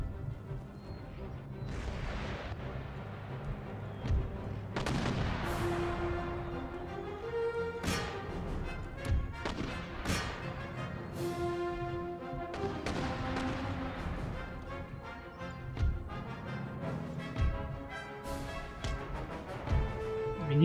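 Artillery bombardment in Empire Total War, repeated heavy booms and cannon blasts at irregular intervals, some close and sharp, others distant, over a low battlefield rumble with occasional talk.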